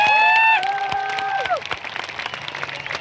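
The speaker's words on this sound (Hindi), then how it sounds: "मैं चाहता हूं ऐसे महान शख्सियत के लिए एक जोरदार तालियां होनी चाहिए।" Applause from a crowd at a Vijay Parv 2026 gathering starts under a fading sustained musical tone, then continues as scattered, moderately loud clapping with some crowd noise after the tone drops away.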